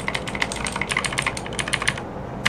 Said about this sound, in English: it's like an Atemo blue keyboard, which is basically the same thing as cherry blue. So it's quite loud, I recognize.